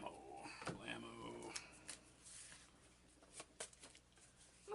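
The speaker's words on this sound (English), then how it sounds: "More shuffling." Playing cards for the Shadows of Brimstone board game are shuffled in faint, scattered rustles and soft snaps, with a voice speaking briefly near the start.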